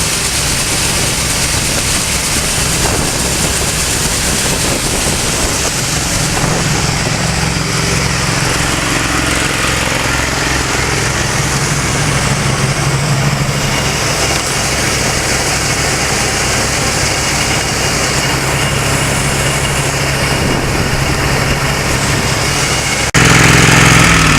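An auger machine runs steadily and loudly nearby, a constant mechanical engine drone with shifting tones that holds without pause, ending in a sharp louder burst.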